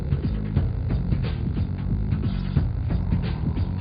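A vacuum cleaner sucking up a mosquito, a loud, steady close hum with a rapid throbbing pulse running all the way through and no voices.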